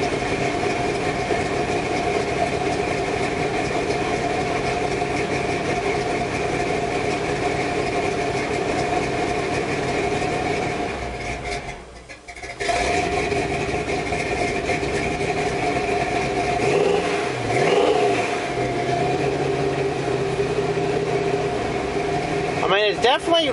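A 1984 truck engine runs steadily at about 1500 RPM, a continuous droning hum with a brief dip near the middle and some uneven sputtering toward the end.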